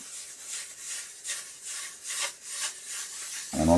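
A wooden plane sole rubbed back and forth on a wet diamond sharpening stone gives a steady, close rasping scrape in repeated strokes, ending in a brief louder clatter.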